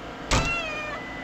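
A cartoonish cat screech sound effect from the Purr Pals video game, a sudden loud burst that trails into a long wavering high-pitched wail, heard alone without talk.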